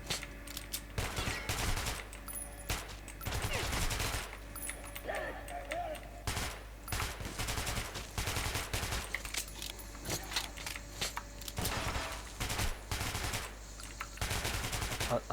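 Gunfire in the video game Metro Last Light Redux, repeated bursts and single shots cracking over steady low game ambience throughout, with a voice talking between volleys.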